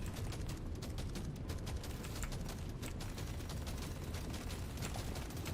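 Rapid weapon fire in Deep Rock Galactic: Survivor, a dense, continuous stream of fast shots over steady game noise, with no pauses throughout.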